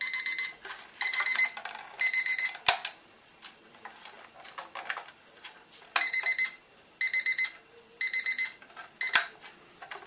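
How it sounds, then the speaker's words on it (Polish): A repaired mechanical alarm clock rings in repeated short bursts, loud and close, with a few sharp clicks and ticking in between. "Zobaczymy właśnie, czy on budzi."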